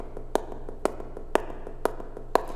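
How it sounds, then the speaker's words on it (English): Sampled high heel clicks placed on eighth-note subdivisions repeat in a steady, evenly spaced rhythm, with softer clicks filling the gaps between the louder accented steps. "I took a different sample of a high heel and I put them on the subdivisions"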